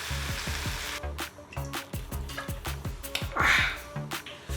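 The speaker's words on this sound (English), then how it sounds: "Now we deglaze with some white wine" Dry Sauvignon Blanc white wine hitting a hot pan of pork belly, a sizzle with repeated sharp ticks and pops from stirring or scraping, close-up and moderately loud.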